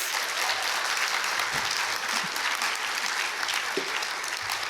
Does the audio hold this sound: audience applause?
yes